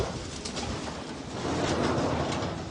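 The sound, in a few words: pigeons cooing in their loft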